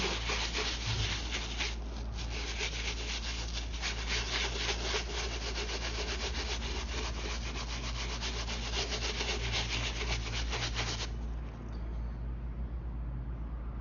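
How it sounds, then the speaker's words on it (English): Pink Miracle cleaner scrubbed onto a Jordan 1 sneaker in circular motions, a steady, close, continuous rubbing and brushing noise that runs for several seconds and then thins out. "Circular motion. Rub it evenly throughout the shoe."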